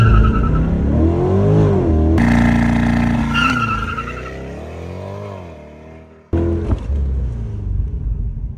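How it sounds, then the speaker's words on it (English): A Chevrolet Corvette C8 launches hard under launch control, its engine roaring loud and close as it climbs through sharp gear changes, with a brief drop before the revs surge again. "put your foot on the brake, hit the gas. And you got launch control ready to go."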